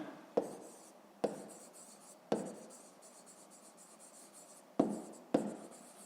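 A pen writes on paper during a fifth-grade maths exercise, with a handful of distinct scratchy strokes starting sharply at irregular intervals, each fading into a soft continuous rubbing, close and fairly quiet, with no talking.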